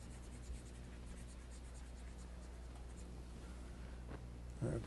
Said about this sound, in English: But Malory's Morte d'Arthur, and let me write down how you spell Morte d'Arthur.